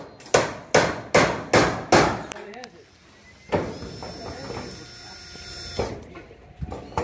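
At a home construction site, a hammer strikes five times in a quick, even, loud rhythm, followed by more scattered knocks and bangs as people talk nearby.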